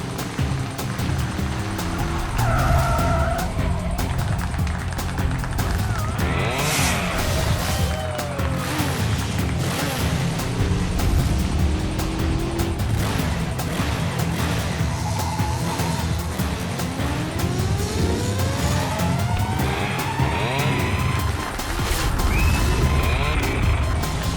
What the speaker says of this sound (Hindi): हमारे सुपर बाइकर्स अपने स्टंट्स के साथ ऑलरेडी चालू हो चुके हैं और ये इधर उन्होंने मारी एक बड़ी विल्ली।